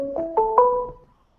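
A phone ringing, three rising electronic chime notes in quick succession that ring out and fade, close and clear with no talking.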